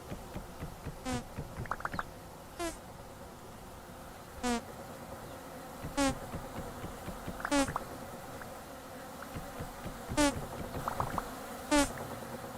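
Bees in the video game Vintage Story buzz in short, faint swells that come and go every second or two over a quiet background, with no talk.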